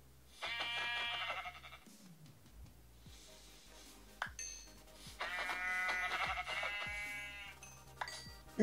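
Repeated sheep bleats from the Minecraft video game, two long harmonic calls with a shorter one between, loud and close over a low background hum with occasional clicks.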